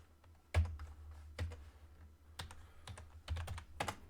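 Typing on a computer keyboard close to the microphone, with irregular clusters of sharp key clacks and a few heavier strikes, no speech.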